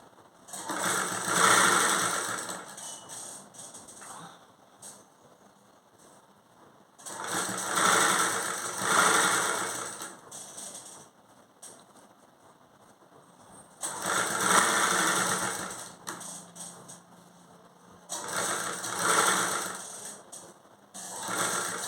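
An electric sewing machine stitches thread piping onto a blouse, running in four steady whirring bursts separated by short pauses, loud and close with no talk.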